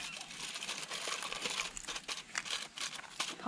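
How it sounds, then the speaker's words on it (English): Aluminium foil crinkles and crumples as it is folded over damper rolls in a camp oven at a campfire, a close, quiet run of irregular crackling rustles. "Just fold the foil over so that we can get them out a bit easier."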